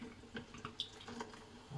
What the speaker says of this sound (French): je vais rincer ma petite cuillère.